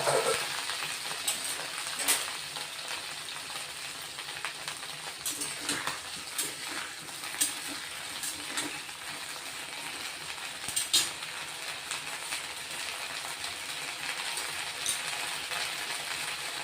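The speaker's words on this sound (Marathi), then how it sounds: "तेल गरम झालंय, थोडेसे जिरे टाकून घेतलेत आपण आणि हे धुतलेले आहेत ना कट केलेले वांगे तेही" Washed, cut brinjals fry with cumin seeds in hot oil, giving a steady, even sizzle with faint crackles and occasional stirring clicks that continue throughout.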